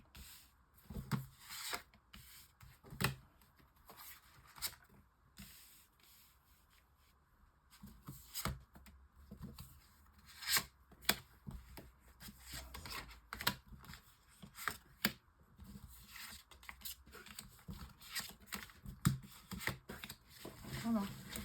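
Tarot cards shuffled and dealt out for a nine-card reading, with repeated crisp riffles, slaps and rustles of card stock at close range, broken by short pauses across the whole stretch.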